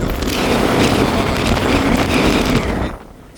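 Strong wind blowing by the sea on Jeju Island, a steady loud broadband roar that gusts continuously for about three seconds before dropping off sharply near the end.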